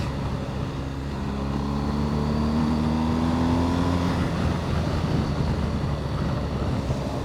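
Steady engine drone from a 2023 BMW R1250 GSA motorcycle's exhaust, with rising harmonic tones as the motor revs up, then rumbling on under wind noise; loud and continuous throughout.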